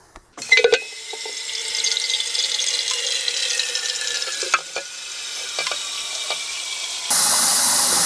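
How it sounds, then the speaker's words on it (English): Hot water runs into an empty Honda TRX70 ATV gas tank, a steady splashing hiss close by with a few clunks and knocks, swelling into a louder rushing pour at the end. "I'm putting hot water in this too."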